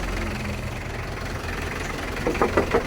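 A 1996 Isuzu Panther Grand Royal diesel engine idling, a steady low rumbling clatter with a brief rise in knocking near the end, close by and without talk.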